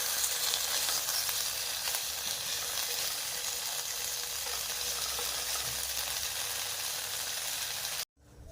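Ham fries in butter until golden brown, giving a loud, steady close sizzle that runs throughout with no talk and stops abruptly near the end.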